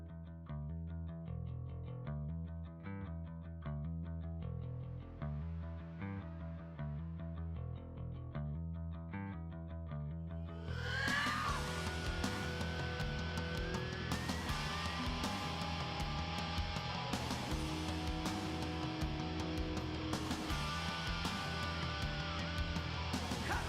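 A repeating bass riff plays quietly at first, then the full band crashes in with distorted guitars and drums, building into a loud rock texture.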